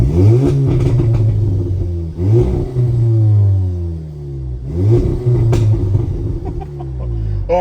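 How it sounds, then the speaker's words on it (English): A straight-piped Audi S3 with an aftermarket downpipe revs hard through repeated accelerations, its loud, raspy exhaust rising and dropping in pitch across shifts, close and dominant. "This is the car, what it sounds like if you're thinking of doing a downpipe in your car."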